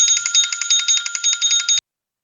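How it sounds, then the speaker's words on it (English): A time-up bell at a school district budget hearing board meeting rings in a rapid, steady burst of bright metallic strikes for under two seconds, loud and close, then cuts to silence. "When I hear the bell at the board meeting, time's up."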